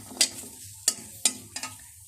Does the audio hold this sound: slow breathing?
no